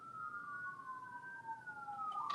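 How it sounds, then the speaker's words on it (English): Sirens outside wail in slow rising and falling sweeps, faint and distant, a pair of overlapping tones drifting apart and together over low background noise. "Milo, do you hear the sirens?"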